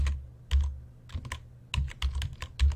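Close computer keyboard typing comes in irregular bursts of crisp keystrokes with short pauses between clusters.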